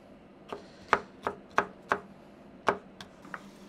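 A knife chops green bell pepper on a board, about nine crisp, close strikes in an uneven rhythm with short pauses between them.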